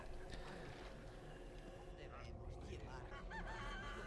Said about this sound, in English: What's that chicken doing?